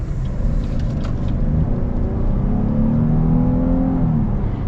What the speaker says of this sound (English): looks like we will have our opening here to get up and accelerate.